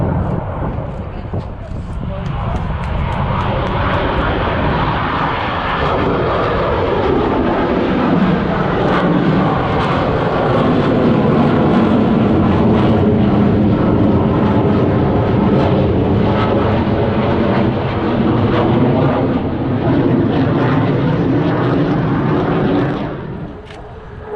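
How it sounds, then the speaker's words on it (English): A U.S. Navy Blue Angels jet flies a 7G minimum radius turn during practice at NAS Pensacola. A loud, continuous roar holds for over twenty seconds, its pitch shifting as it passes, then cuts away at the end. "They call this the minimum radius turn, 7G pull on this aircraft."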